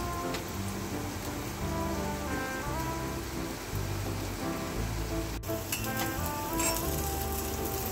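Slices of elephant foot yam and curry leaves shallow fry in oil with a continuous, even sizzle full of fine popping and crackling, steady and close for the whole stretch with no voices.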